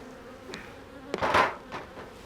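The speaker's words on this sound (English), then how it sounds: "don't stick your face down in a beehive that's this populated and breathe on them" Honey bees in a densely populated beehive give a faint, steady buzz, with a brief louder swell of buzzing near the middle as the open hive is worked close up.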